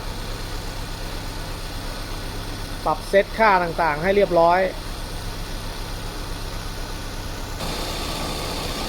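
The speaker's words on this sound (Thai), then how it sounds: "เสียงเครื่องยนต์ ทำงานปกตินะฮะ" A Mazda Familia 1400 engine idles with a steady low hum throughout, while someone speaks briefly in the middle.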